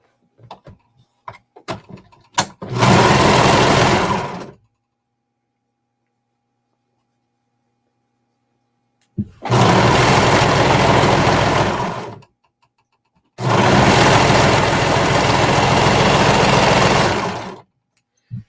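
Three bursts of a sewing machine joining leggings pieces, each a loud close whirring run of a few seconds separated by silence, with a few faint handling clicks at the start.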